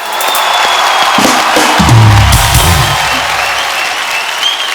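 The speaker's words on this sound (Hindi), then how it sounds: "सो एक बार जोरदार तालियां हो जाए आप सबके लिए" A studio audience applauds at a comedy show, with loud, sustained clapping from a large crowd that holds steady for several seconds and thins slightly toward the end.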